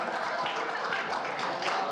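An audience claps for retired Major General Soenarko, a brief, dense patter of applause at moderate distance that holds steady for a moment without a clear break.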